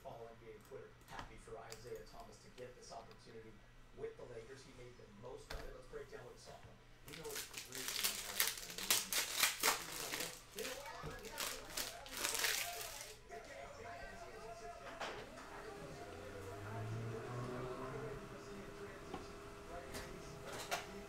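Panini Mosaic basketball hobby card packs being torn open and handled, with bursts of crinkling foil wrapper and shuffling cards up close, quiet rustles before and after, and a low hum underneath.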